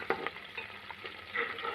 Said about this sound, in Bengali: পেঁয়াজগুলিকে সাবধানে নেড়ে চেড়ে একদম লালচে করে ভেজে নিচ্ছি